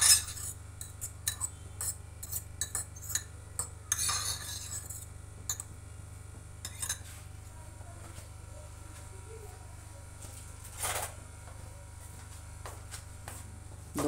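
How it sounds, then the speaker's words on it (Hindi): Mashed boiled eggs are mixed with salt and pepper in a bowl: scattered light clinks and scrapes of a spoon against the dish, soft and close over a low, steady background hum. "इसको मिक्स करूँगी"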